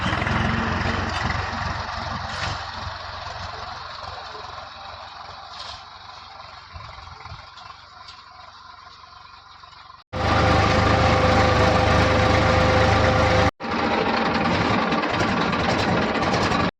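Tractor engine running steadily on a farm, a continuous mid-loud drone that grows much louder and closer in the final seconds with a brief cut.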